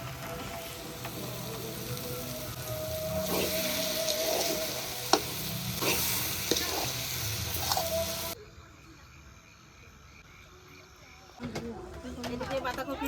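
Cabbage sizzles and fries in a pan with ground spices, a steady crackle broken by stirring scrapes, then a short quieter gap before the sizzling picks up again.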